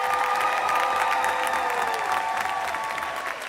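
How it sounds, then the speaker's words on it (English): A large crowd at a university rites of passage ceremony gives warm, continuous applause for master's graduates, mixed with faint cheering and a tonal hum from the hall's sound system. "Let's give our master students one more round of applause."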